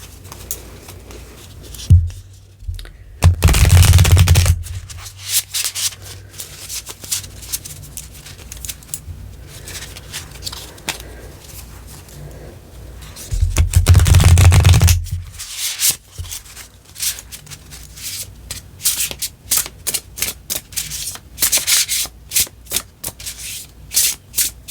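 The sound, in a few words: shuffling an oracle card deck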